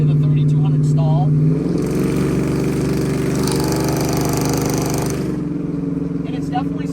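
A cammed Chevrolet Silverado V8 with a full exhaust and Speedy Smooth muffler rumbles loudly and continuously nearby, idling with a choppy lope before the revs rise briefly and settle back, while someone talks over it.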